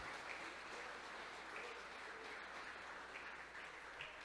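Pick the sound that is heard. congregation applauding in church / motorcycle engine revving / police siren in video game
congregation applauding in church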